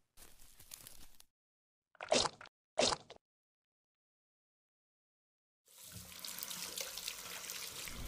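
Hands are washed with Lifebuoy hand wash under a running tap: a few short squishy rubbing sounds, a silent pause, then steady splashing tap water through to the end.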